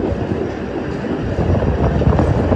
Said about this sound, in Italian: siamo sul tram 312 e percorriamo la tratta che ci porterà fino a capolinea di Piazza Castello.